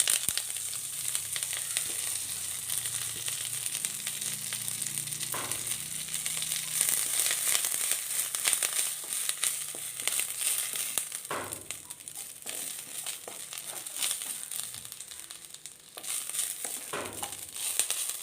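Drumstick leaves frying in a pan with ginger and curry leaves, a continuous sizzle with occasional stirring scrapes, close and moderately loud with no talk.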